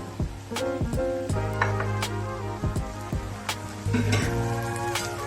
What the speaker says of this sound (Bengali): এখন এর মধ্যে আমি দিয়ে দিব আমার যে সেদ্ধ করা ছোলাটা দিয়ে দিব